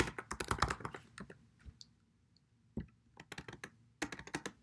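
Computer keyboard typing in short bursts of quick clicking keystrokes, close and fairly quiet, with pauses of near silence between bursts while someone fills in a spreadsheet of expense and income accounts.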